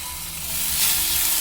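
Chopped carrot and half a tomato frying in a pan, a steady close sizzle with faint stirring that swells slightly partway through, no voices.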